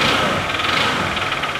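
A Honda Bros 150 (2014) motorcycle engine running with a worn connecting rod, giving a steady, close, bright mechanical clatter and rattle that continues without a break for the whole stretch, with no talk over it.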